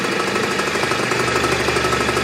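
A restored 1971 Harley-Davidson golf cart engine idling close by, with a steady, rough, knocking putter that holds even throughout and no talk.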